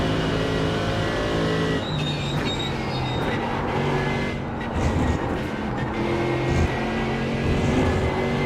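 A race car roars past in an iRacing-style sim race, its engine tone loud and continuous with rising and falling harmonics as it closes in to lap another car, no talking over it.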